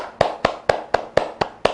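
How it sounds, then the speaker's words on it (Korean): Seven sharp, evenly spaced hand claps, close and clear with no voices, offered as a gesture of praise during a Korean lecture. "이런 사람들에게 박수를 보내고 싶어요"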